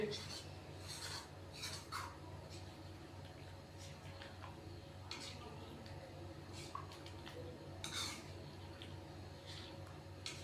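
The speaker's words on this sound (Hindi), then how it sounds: "दही डालने के बाद अच्छे से हम इसको मिक्स करेंगे।" Whisked yogurt being stirred into a potato karahi: a steady, quiet scraping and rasping of a spoon against the pan continues throughout, with occasional soft clinks over a low background hum.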